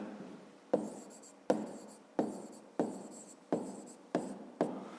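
A pen writes a fifth-grade math solution by hand on paper. Seven distinct scratching strokes come close and quiet, each starting sharply and fading, with short pauses between them.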